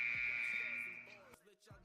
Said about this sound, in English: Y'all heard the buzzer